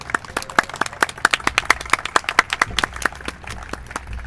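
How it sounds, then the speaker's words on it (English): Scattered applause from a campus crowd at a groundbreaking for a garden plaza, distinct individual claps in a loose irregular rhythm, fairly close, thinning out toward the end. "Can we get another applause for the design?"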